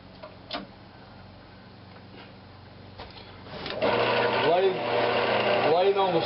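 A wood lathe turning Brazilian cherry at slow speed starts up partway through, and its rhythmic, ticking whir grows louder as a 2-inch Forstner bit bores into the wood, after quieter room noise and faint talk.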